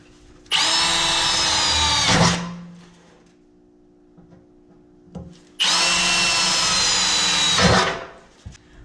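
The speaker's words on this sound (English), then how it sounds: "you can drill through without that damn thing in your road" A power drill bores holes for mounting a line lock on a car, two loud sustained bursts of motor whine of about two seconds each, each winding down as the trigger releases, with a quiet pause and a few small clunks between them.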